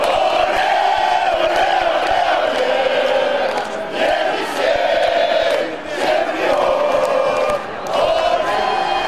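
Hockey fans in the stands at a match in Krasnoyarsk or Khabarovsk chant a victory song together, a loud, steady crowd roar with rising and falling sung phrases carrying on without a break.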